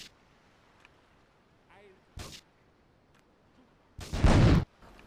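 Rifle fire in GTA III: a short sharp shot, then after a pause a second, louder and longer blast, standing out against quiet game ambience.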